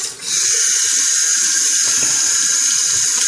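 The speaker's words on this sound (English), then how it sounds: "wash my hands a little bit" A bathroom faucet runs in a steady bright hiss as hands are washed under it, with soft splashing and rubbing underneath, loud and close from start to finish.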